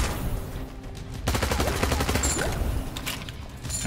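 Rapid gunfire from a weapon in the first-person shooter Immortal Redneck, a dense burst of repeated shots that runs almost continuously and stays loud and close, with no talking over it.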